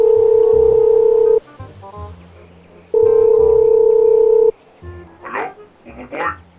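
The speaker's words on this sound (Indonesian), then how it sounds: "Aku harus segera nih telepon Optimus Prime." Phone call being dialed in the GTA 5 video game: two long, loud steady tones, each over a second, with quieter clicks and murmurs between them and fainter bursts of sound near the end.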